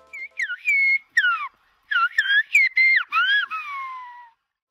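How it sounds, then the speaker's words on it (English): A series of melodic whistles, rising and falling in short phrases with brief pauses, in Silbo, a whistled form of Spanish, clear and close. "Sylbo is a form of communication that uses whistles"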